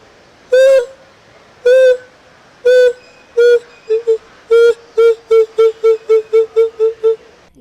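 A man imitates a morning-calling bird with his voice, giving a series of clear whistled hoots, first spaced out and then speeding into a quick run of short repeated calls, close and loud.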